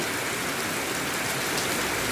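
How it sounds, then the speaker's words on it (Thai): Heavy rain pours down at night, a dense, loud, steady hiss of countless drops with no breaks, heard alone without voices. "ฝนตกอย่างแรงเลยนะครับ"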